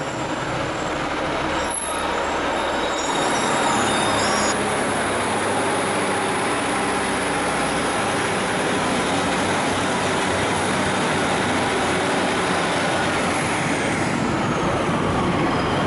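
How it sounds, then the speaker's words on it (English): A Class 156 Super Sprinter diesel train passes through Poulton-le-Fylde station, a steady loud rumble and rolling drone continuing throughout with no talk. "Super Sprinter for Blackpool North, and another one in the back in the new northern livery."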